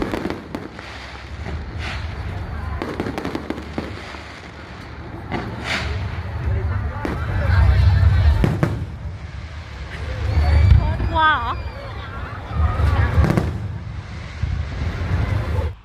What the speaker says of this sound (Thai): พอมาถึงงานเขาก็เริ่มจุดพลุกันพอดี